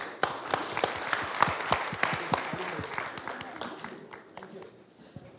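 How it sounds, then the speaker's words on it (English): A small group of students at a school open house claps in scattered, uneven bursts that gradually thin out and fade, with some voices mixed in. "Let's have a big round of clap for each other."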